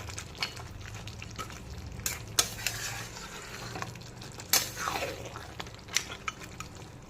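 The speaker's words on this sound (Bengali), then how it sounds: "এখন ঢাকনাটা একটুখানি খুলে নাড়াচাড়া করে দেব, আর দেখব ঠিক কতটা বাকি আছে" A spoon stirs muri ghonto in a wok with its lid opened, scraping and clinking in irregular bursts over a constant low sizzle of cooking rice, close and fairly quiet.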